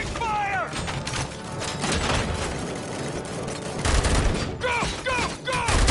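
Sustained covering gunfire in the video game Robocop Rogue City, with dense, continuous shooting and mechanical clatter mixed with a few short voice calls and battle effects.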